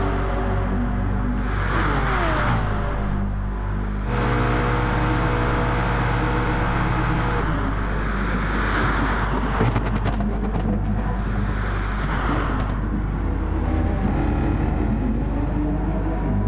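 Racing cars on the final lap at Monza roar through continuously, with engine tones rising and falling as they pass and shift, a steady loud mechanical drone throughout.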